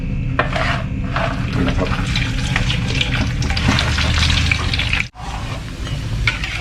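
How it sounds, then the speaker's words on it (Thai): Crispy pork belly strips frying a second time in hot oil, a steady dense crackle and bubbling that runs throughout, briefly cutting out near the end before resuming. "แล้วเราก็จะนำลงไปทอดซ้ำนะครับ รอบสอง โดยการใช้น้ำมันร้อนนิดนึงนะครับ"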